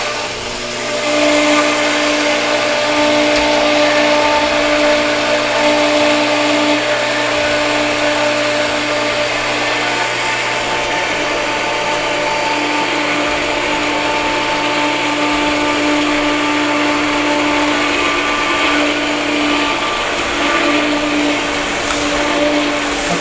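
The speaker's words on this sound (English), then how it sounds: "I'll say it before the pump comes on because it's kind of noisy." A pool pump runs after chlorine pucks are added to the chlorinator, a loud steady motor drone with a constant whine and churning hum, close by and unchanging, with no voices.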